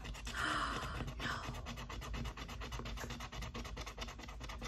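Close, steady rubbing and scraping of a coin across a savings challenge scratch card, a dense run of quick rasping strokes lasting several seconds with no talk over it.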